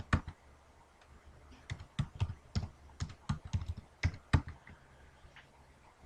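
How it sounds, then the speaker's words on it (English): Keys on a computer keyboard are typed while a DNS server is entered during a Linux Mint setup in VirtualBox, sparse close clicks that pick up into a quicker run of taps over a quiet background. "down here we can type in our DNS server"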